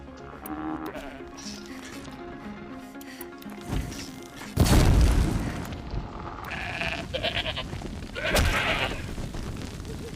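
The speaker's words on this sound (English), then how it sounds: "I like how you can hear the goat like going meh in the background." Goat bleating in the video game Horizon Zero Dawn, a few nasal bleats rising over game ambience and music, with a sharp booming impact midway and another loud burst near the end.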